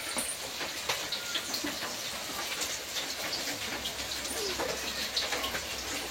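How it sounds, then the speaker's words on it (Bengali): Rain falls steadily outdoors in dark, overcast weather, a soft continuous patter with scattered drops, fairly distant and even. "আর বাইরের দিকে কিন্তু ভালোই বৃষ্টি হচ্ছে"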